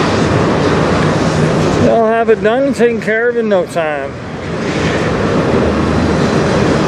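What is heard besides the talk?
CN train cars passing by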